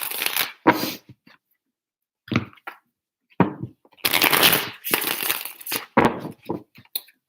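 Tarot cards are shuffled in close, papery bursts of riffling and slapping, separated by short silences, with a long continuous shuffle in the middle and a few quick flicks at the end.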